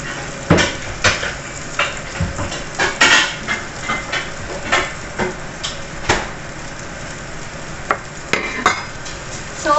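Chicken kabsa being stirred in a pot, with frequent metallic clanks and scrapes of a spoon against the pot in an uneven rhythm over a soft sizzle, close and fairly loud, no voices.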